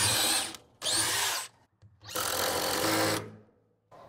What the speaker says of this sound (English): drill your pilot holes